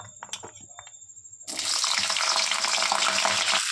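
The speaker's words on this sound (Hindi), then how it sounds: "अब मैं इसको तेल में डाल दूंगी फ्राई करने के लिए।" Pieces of washed, cut cauliflower hit hot oil at the halfway mark, setting off a loud, steady sizzle and crackle that continues to the end, after a few quieter kitchen clinks and taps.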